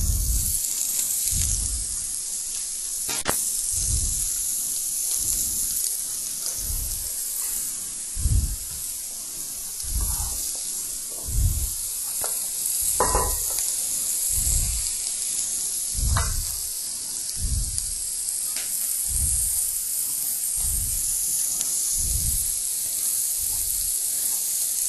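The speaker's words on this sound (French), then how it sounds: "vous mettez vos bardes dans lesquelles vous avez vos foies à griller" Chicken livers wrapped in bacon sizzle on a grill, a steady close crackling hiss that swells and fades in regular pulses, with occasional sharper pops and no voices.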